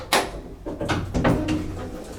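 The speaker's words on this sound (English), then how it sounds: "See if we can close the door." The door of a vintage 1972 Otis Lexan elevator slides shut nearby in a quick series of rattling thuds and scrapes, ending with a firm close.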